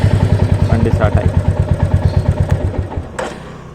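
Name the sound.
Royal Enfield Meteor 350 motorcycle engine starting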